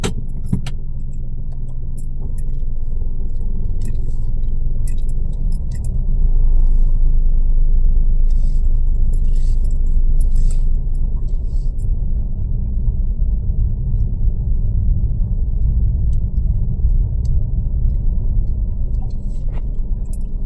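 A car engine rumbles steadily and loudly while the car is being driven slowly, with the deep road drone continuous throughout and faint ticks and rattles inside the cabin.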